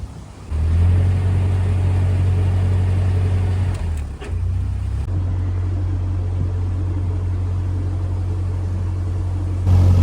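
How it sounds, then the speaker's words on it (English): A canal boat diesel engine starts near a lock and settles into a steady low, close idle rumble, dipping briefly midway before running on evenly. "So people are starting their engines and looks like we're on our way."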